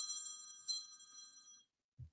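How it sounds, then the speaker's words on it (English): A mobile phone ringtone plays a bright, electronic melodic ring for about a second and a half, then cuts off abruptly, followed by a brief low thump. "I thought I had put my phone on silent."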